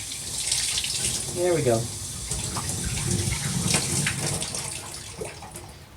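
Cold tap water runs steadily to rinse out the tank of a Bissell Spot Clean Professional portable carpet cleaner, a close, continuous splashing gush, with a brief spoken remark over it.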